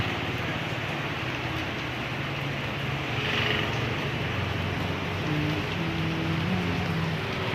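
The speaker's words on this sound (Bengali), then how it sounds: "দেখতে পাচ্ছ এই যে বৃষ্টি হচ্ছে, খুবই জোরে জোরে বৃষ্টি পড়ছে।" Heavy rain falls steadily outdoors, a dense continuous patter and hiss that holds for several seconds, with a faint low rumble like passing traffic underneath and no voices.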